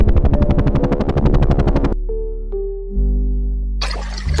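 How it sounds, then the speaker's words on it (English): A helicopter's rotor beats in fast, loud, regular pulses for about two seconds, followed by a lower droning engine tone and a burst of hiss. "helicopter,"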